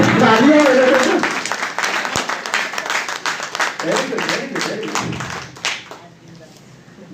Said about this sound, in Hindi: तालियां बजती है ना, तालियां बजती है